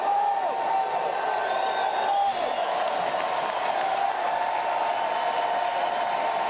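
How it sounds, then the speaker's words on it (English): Crowd at a Texas night baseball game, a broad distant roar of cheering and scattered applause that holds steady beneath a tonal hum. "You hear the crowd."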